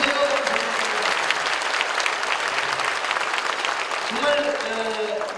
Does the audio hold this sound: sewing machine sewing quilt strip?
no